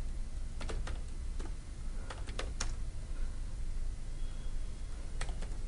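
Computer keyboard typing while entering JavaFX code: a few scattered clusters of light key clicks, close and fairly quiet, over a steady background hiss with pauses between bursts.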